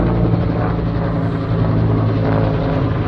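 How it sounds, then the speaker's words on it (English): Small firefighting helicopters carrying black water baskets thunder overhead above a wildfire near Saluda, North Carolina, their rotors giving a loud, steady, close drone with no pause. "See the small helicopters with the black baskets."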